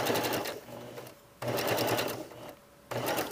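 A sewing machine zigzag-stitches the welt pocket lips of a jacket, running in two steady, whirring bursts of rapid needle strokes separated by a short pause, close and clear.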